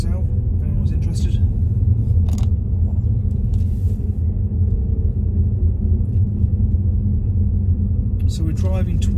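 A car drives along a suburban road toward the M42 motorway, with a steady low engine and road rumble throughout, plus a person talking over it at points.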